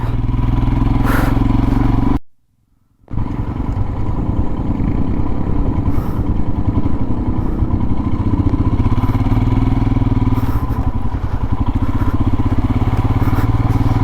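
A Royal Enfield Himalayan motorcycle rumbles along a rough, bumpy Zanskar road near Kargil, the engine loud and steady with clattering and rattling, broken by one short dropout.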